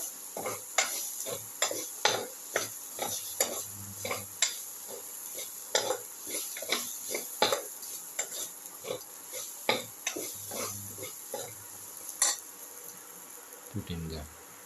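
Pieces of eggplant and potato are stirred with salt in a pan, giving a steady run of close scraping and tapping strokes over a faint sizzle, with occasional low thuds and no talking.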